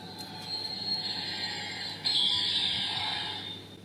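A Bandai DX Ultraman Gaia Esplender toy, Chinese version, powering on with a sustained high electronic tone that swells into a louder, brighter burst of synthesized sound near the end, played close and alone.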